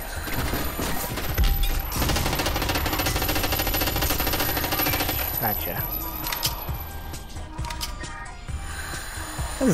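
Dense, loud gunfire from a gun in a video game, a sustained clattering barrage that runs nearly nonstop for several seconds before thinning into scattered metallic clinks.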